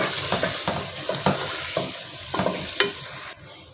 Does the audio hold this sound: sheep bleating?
no